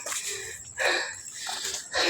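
Heavy panting from hikers climbing a hill comes in ragged, uneven breaths, with several louder gasps close by among softer huffs.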